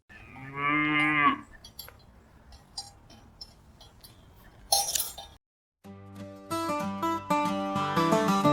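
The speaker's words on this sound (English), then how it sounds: "Cow." A cow moos once, a clear harmonic low call lasting about a second, followed by quieter clinks and a burst of noise, then a bright chiming melody with no talk.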